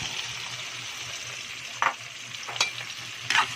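Shrimp and tomatoes fry in hot oil with a steady soft sizzle, broken by a few sharper crackling bursts as the pan is stirred, close up and with no voices.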